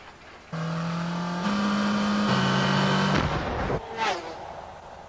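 Daihatsu YRV, the brand's young recreational vehicle, with a steady engine drone that steps up in pitch as it accelerates through gears, ending in a sharp burst and a fading rush.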